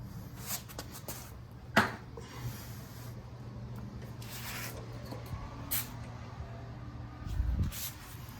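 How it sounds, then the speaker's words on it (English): Short hissing bursts of PB Blaster penetrating oil sprayed onto a car's outer tie rod end, a few separate spurts over low shop background noise. "Doesn't hurt to use a bit of PB Blaster here as well"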